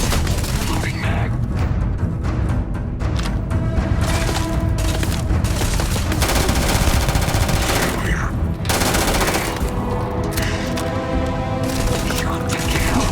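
Gunfire in the video game Starfield, dense and continuous, loud rapid shots blending with booms and game effects for the whole stretch, with no quiet gaps.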